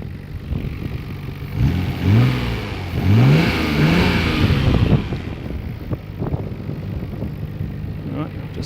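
Nissan Skyline GT-R R32 engine, a few sharp rising revs in the middle blending into a steady idle rumble, heard close with some wind buffeting, loud throughout.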